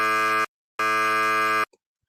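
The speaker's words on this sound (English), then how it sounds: "we have the Bible buzzer, the Bible BS buzzer" Two loud, harsh electronic buzzes, the first short and the second longer, separated by a brief silence.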